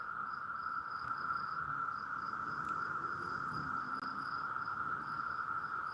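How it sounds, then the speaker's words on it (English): Crickets chirp outdoors in a loud, steady, high trill that never stops, with faint pulsing chirps layered above and soft low background rumble beneath. "I hear some crickets too"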